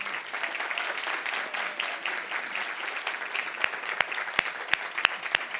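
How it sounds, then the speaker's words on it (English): Audience applause at an International Women's Day panel at the Detroit Regional Chamber: a dense, steady wash of many hands that thins toward the end into a few sharp, separate claps. "a big round of applause for Lisa Lunsford, Linglong He, and Najah Bazzy"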